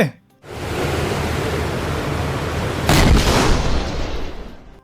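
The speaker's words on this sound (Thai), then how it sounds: "ปืนใหญ่ของศัตรู" Enemy cannon fire as a dramatic sound effect in a naval battle scene: after a brief pause, a heavy roaring blast rises into a sustained rumbling wash, with a sharper burst near the end.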